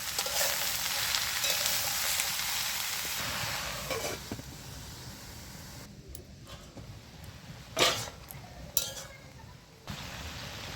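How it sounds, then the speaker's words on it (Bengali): Snake gourd fries in oil with a steady, close sizzle throughout, broken by a few clinks of a utensil stirring in the pan. "তেল দিয়ে ভালো করে ভেজে নেব"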